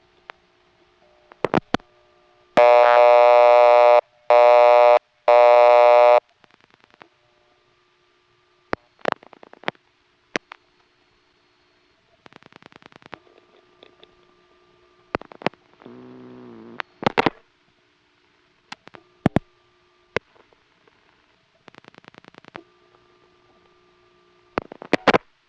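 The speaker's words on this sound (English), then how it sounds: "we will be able to hear in both cases a register sender out there and a hunting noise out there" Tones and clicks on a 1978 Siemens motor-switch telephone exchange in the Ocala–Silver Springs area of Florida: a loud burst of chopped register-sender tones, then scattered relay clicks and fainter hunting-noise bursts, with no talk.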